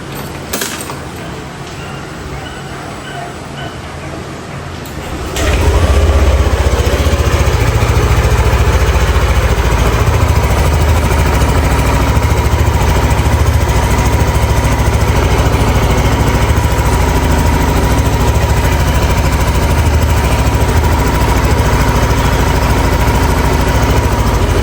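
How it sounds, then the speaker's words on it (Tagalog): A Yamaha NMAX V2 scooter engine starts after a few seconds of quiet and keeps running at a steady, loud idle, up close, with a low rumbling drone and no talk over it. "kailangan muna natin testingin yung motor natin kung okay ba o baka ayaw na niya umandar"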